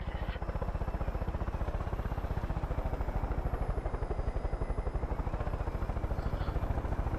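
A helicopter in flight in the Far Cry 5 video game, with a loud, close, rapid and steady rotor chop throughout under a constant engine whine, and no talk.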